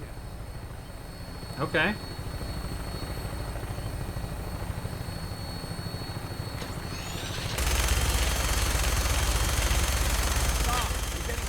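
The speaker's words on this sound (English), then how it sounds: "Tinker's gonna keep the vertibird spooled for an immediate takeoff" Vertibird aircraft from Fallout 4 hums steadily with engine drone and rotor thrum, then swells abruptly louder and fuller partway through; a brief voice speaks near the start.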